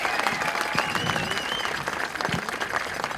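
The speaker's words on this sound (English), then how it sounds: "let's give the family a big round of applause." Applause from an audience at a family celebration event, dense and steady clapping throughout with some whoops and cheering voices mixed in.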